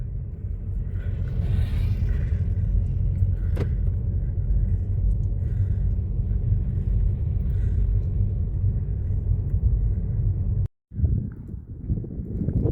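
A car cruises along Utah State Route 12, producing a loud, steady low road rumble and wind drone from inside the vehicle, cutting out briefly near the end, with no talk.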